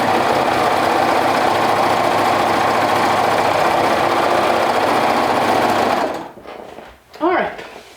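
A sewing machine runs steadily for about six seconds while stitching garment sleeves for a team outfit, loud and close, then stops. Brief faint handling noise and a short vocal sound follow.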